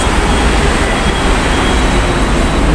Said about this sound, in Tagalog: Ayan po ang train tram.